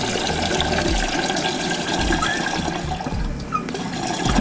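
Filtered water pouring into the reservoir of an Imarflex ICM-500A coffee maker, a continuous splashing, gurgling fill heard close up with no talk over it.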